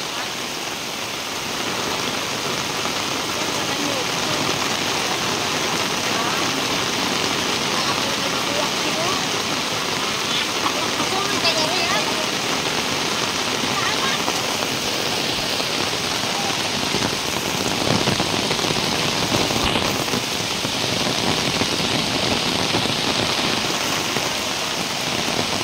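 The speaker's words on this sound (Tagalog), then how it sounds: "Malakas ang tulo dito." Heavy rain pours and drips steadily outdoors, a loud dense continuous patter close by that stays even throughout with no break.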